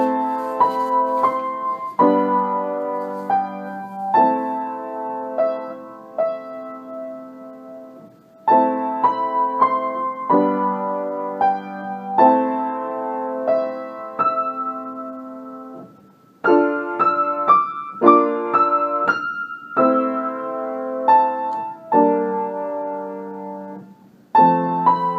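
Slow piano passage with dissonant chords played legato without sustain pedal, clear sustained notes changing in measured steps, solo and fairly loud with no talking.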